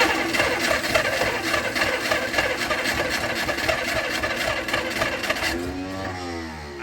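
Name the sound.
engine cranking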